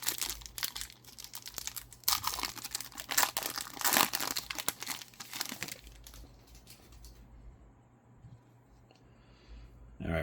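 A foil pack of Topps Flagship football trading cards being torn open, with loud crinkling and crackling of the wrapper for several seconds, then quieter handling of the cards.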